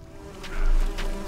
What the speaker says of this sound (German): Bienen.